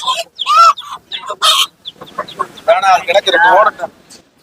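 Roosters and chickens cluck and squawk close by at a Sunday market in Madurai, several birds calling in quick, overlapping bursts, with a busy farmyard chorus building in the second half.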